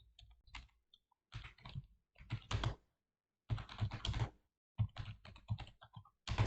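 Close, crisp typing on a computer keyboard comes in short bursts of rapid clicks separated by pauses, with no talk.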